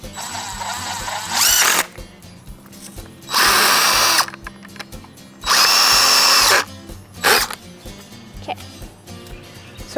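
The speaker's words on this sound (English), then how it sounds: "So after you've drilled the first 3-foot board in" A power drill driving screws through a 3-foot wooden trellis board, several loud close whirring bursts of about a second each, separated by quieter pauses with faint background sounds.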